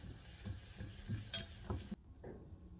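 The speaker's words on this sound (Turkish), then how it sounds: "Öncelikle un kokusu çıkana kadar güzelce karıştıralım" A spoon stirs flour into melted butter in a pan for béchamel sauce, soft scraping strokes with a gentle sizzle underneath, close and quiet, before the sound cuts off.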